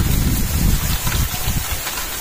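Heavy rainfall pours down in Bhawanipatna as a loud, continuous dense roar close by, with no talk over it.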